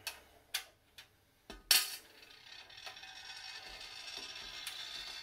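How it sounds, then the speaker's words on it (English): Thumb screws are fastened on a PC case in a budget build: a few sharp metallic clicks and taps up close, then a quiet, steady rubbing as they are turned. "you're just going to take these little thumb screws, just secure it on"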